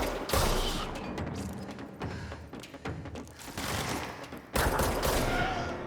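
Sustained, dense gunfire while shooting enemies in the action game Control, continuous rattling shots close and loud with a sharp fresh burst near the end, no talking over it.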